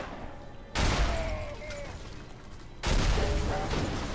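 Bursts of GX-10 gunfire in the video game Afterfall Insanity, two loud, dense volleys that start abruptly and trail off in noisy reverberation, set against a quieter background.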